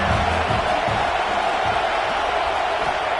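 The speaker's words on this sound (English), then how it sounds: "This crowd bringing the energy and noise early." A football stadium crowd at a game against Georgia roars with sustained cheering, a loud, dense wall of noise that never lets up across the whole stretch.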